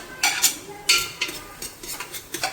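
Chopped onions go into a pan of biryani masala for chicken biryani and get stirred, giving a few scraping, stirring strokes with a soft sizzle underneath, close and fairly quiet, with no voices.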